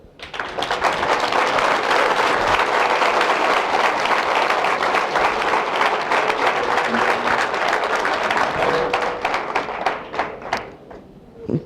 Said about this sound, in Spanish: Con todos ustedes, un fuerte aplauso.